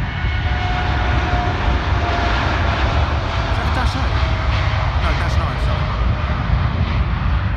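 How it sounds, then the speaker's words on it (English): A Boeing 777-200 at Heathrow with its jet engines roaring, a loud, continuous broadband rumble filling the whole stretch, with people talking over it. "This 777-200 is going to scream, I think, folks. It's growling."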